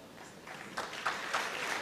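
A church congregation at a Thursday night annual crusade applauds faintly, with scattered claps swelling after a quiet start.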